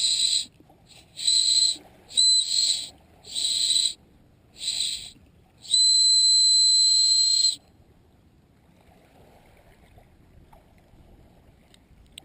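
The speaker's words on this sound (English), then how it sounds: "Okay, whistle test coming up." A shrill survival whistle from a survival bracelet sounds in five short bursts, then one long sustained blast of about two seconds, loud and piercing over quiet background.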